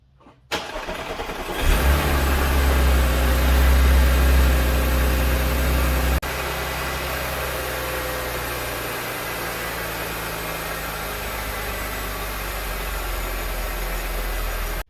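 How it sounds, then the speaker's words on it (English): A supercharged 2010 Audi S4 engine cranks and catches with a loud roar, revs briefly, then drops to a steady, close idle that runs on to the end. "Now let's start the car and see how it runs."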